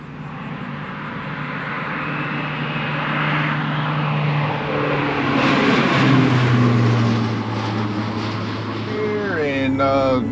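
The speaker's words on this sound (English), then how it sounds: "hear an airplane buzzing in the air" An agricultural propeller plane spreading cover crop seed over farm fields drones overhead, swelling louder as it passes and shifting pitch, then fading, with a brief voice near the end.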